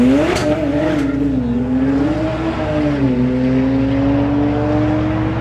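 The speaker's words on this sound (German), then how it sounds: "Ist ja einer der beiden ganz schnellen R8, der hat 2000 PS am Rad." A 2000 HP twin-turbo Audi R8 V10 accelerates hard at a drag race, its loud engine note climbing then settling into a sustained high drone, close and continuous throughout.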